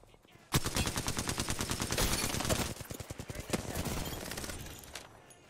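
Automatic gunfire in a video game, a loud sustained burst of rapid shots up close, then a brief pause and more fire that fades.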